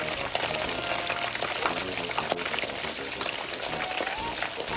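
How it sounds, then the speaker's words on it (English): Fish deep-frying in hot oil in a home kitchen, a steady dense sizzle and crackle with bubbling pops running throughout, fairly loud and continuous. "Make sure the fish is cooked and brown. You have to fry,"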